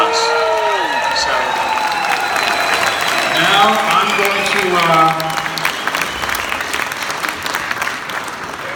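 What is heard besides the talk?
audience applause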